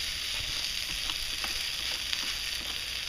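Thinly sliced large red onion sizzles steadily in hot bacon grease in a pan, a close, even crackle of frying with faint pops and no talking.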